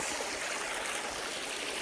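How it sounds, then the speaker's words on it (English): Water flows out of a pipe in a steady, close rushing stream, with a constant wash of sound and no other noises. "So somehow this pipe goes to my property and delivers water"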